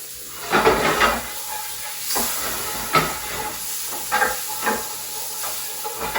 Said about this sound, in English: I'm just sauteing this until it becomes kind of translucent